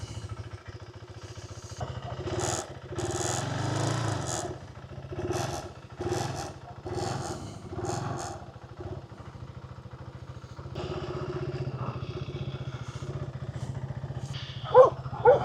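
A KTM 390 Adventure single-cylinder motorcycle engine is started and idles with a steady low thrum, rising in a few short revving bursts, close by, with brief speech in between.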